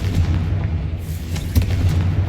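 A booming blast from the Confringo fire spell in Hogwarts Legacy, a deep, heavy explosion with a sharp burst partway through, over rumbling low game noise.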